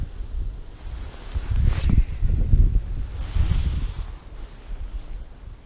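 Wind buffets a lake shore during a bass fishing trip in early spring with ice still on the surface, a steady low rumbling roar with swelling gusts near the microphone and no talk.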